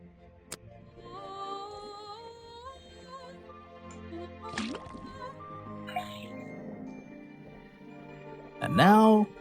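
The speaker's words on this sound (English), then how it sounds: "Then tap the faucet." Liquid runs from a faucet into a cauldron in the Detective Grimoire video game, a soft pouring effect set under steady game music with a brief swoosh near the end.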